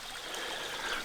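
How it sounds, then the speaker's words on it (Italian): A mountain stream of flowing water along a trail in Val Zemola, a steady, close, even rush and trickle with no voices over it. "troviamo qua un corso d'acqua"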